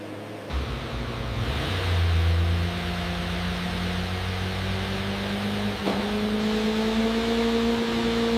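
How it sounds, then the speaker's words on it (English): A supercharged solid gold Kawasaki H2R engine runs on a chassis dynamometer, a loud sustained mechanical drone with steady tones that climb in pitch as revs rise, with no voices. "The solid gold engine is run at high RPM to validate supercharger and drivetrain performance."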